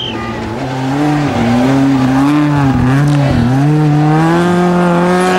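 Abarth rally car driven by Finnish driver Anton Allen on the Col de Turini stage of the 2009 Rallye Monte-Carlo, engine revving loudly through rising and falling gear changes as it slides past close by, with tyre noise.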